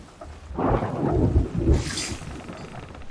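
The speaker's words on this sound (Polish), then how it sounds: "Piorun się pierdolnął." Lightning strike and thunder in the pirate video game Sea of Thieves, a deep rolling rumble with a sharp crackling burst over steady rain, no talk.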